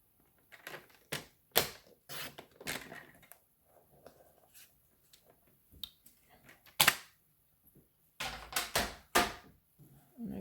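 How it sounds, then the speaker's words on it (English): Paper trimmer cutting card, with sharp, close clicks and slicing snaps in irregular bursts and quiet pauses between them, with no talk. "Let's bring the trimmer back in."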